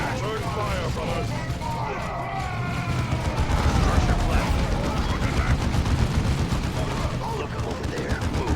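A tactical squad in the video game Dawn of War 2 fires in sustained, rapid volleys that stay loud and dense throughout, with voices and battle clatter mixed in.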